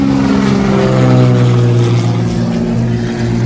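A small Cessna propeller plane drones steadily and loudly up close, its engine hum holding an even, continuous tone throughout.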